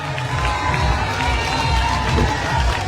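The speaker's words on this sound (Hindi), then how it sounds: "जोरदार तालियों से अभिनंदन करें, स्वागत करें।" A crowd at a late-night political rally cheers and shouts, a dense, energetic roar of voices with scattered whoops, continuous and loud for the whole short stretch.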